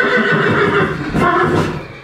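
An old miniature horse, a twenty-year-old mare, whinnies loudly and close, one long shaky call that runs the whole two seconds with a brief dip in the middle. No voices are heard.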